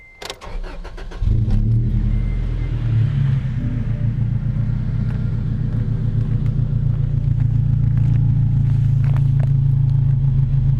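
A car engine starts and settles into a deep, throaty exhaust rumble through a Flowmaster Super 40 dual-exit muffler, idling steadily and loudly up close, with a few faint clicks above it.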